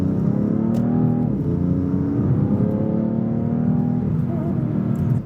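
A car with a dual-clutch transmission hanging in low gear drones steadily at high revs, its pitch dipping briefly then holding, loud and close, with no talking.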